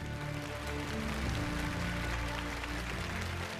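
A studio audience applauding to welcome judge Dong Qing, a dense, even patter of clapping that runs under loud sustained music.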